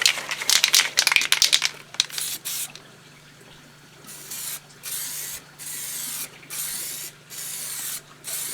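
Spray can laying down a very light first clear coat in short hissing bursts, dense at first, then a steady rhythm of separate sprays alone without talk.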